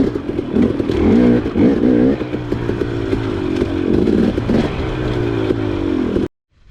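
Off-road motorcycle engine on a forest trail among trees, loud and close, revving up and down in surges with a continuous buzzing drone, then cutting off abruptly at the end.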